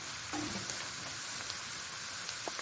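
Buckwheat with minced meat and mushrooms fries in a pan, giving a steady close sizzle with a few soft stirring clicks and no talk.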